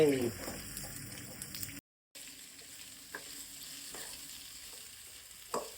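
Potato pieces fry in a pan for a home-style okra huli, giving a faint, steady sizzle with a few light stirring clicks and a brief silent gap partway through.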